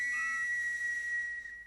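Steady, shrill whistle blown continuously for over a second, clear and close, fading slightly at the end.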